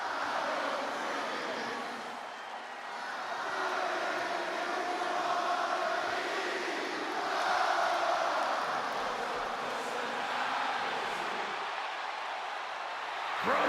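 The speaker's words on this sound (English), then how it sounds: "Just listen to this ovation for the Second City Saint." A hometown crowd gives CM Punk a sustained ovation in the wrestling game WWE 2K26, a dense, far-off roar of cheering that swells and eases slightly without stopping.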